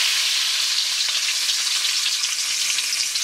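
Red chilies sizzle in hot oil for a bhagar tempering, a steady close crackling hiss filling the whole stretch with no talk.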